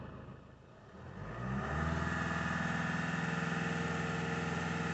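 Ford Kuga engine with an intermittent DPF pressure sensor fault idles quietly, then revs up into a louder, steady held drone with a pulsing rhythm.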